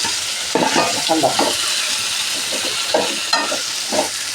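Ash gourd pieces sizzle in hot oil with popped mustard seeds, a steady close fry broken by repeated scraping stirs of a spatula, with almost no talk.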